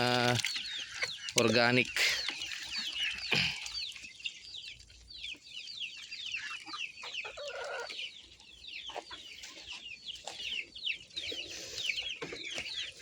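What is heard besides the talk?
Rhode Island Red cross chickens clucking while feeding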